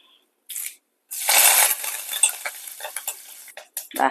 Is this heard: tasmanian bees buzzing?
no